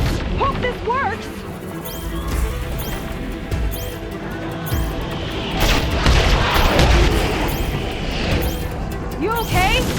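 Tower fire during a Horizon Forbidden West battle: heavy booming blasts and crashing impacts over game music and whooshing effects, steady and loud throughout, with voices.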